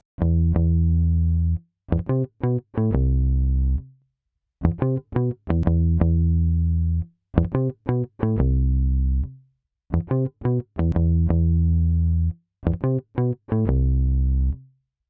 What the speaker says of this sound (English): the plugin is now generating a bit of distortion